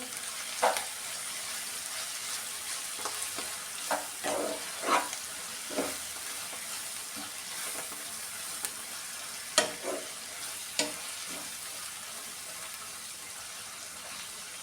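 Vegetables frying in a pan with steady background sizzle, broken by a series of sharp scraping stirs and clinks at irregular intervals, close and moderately loud, no talking.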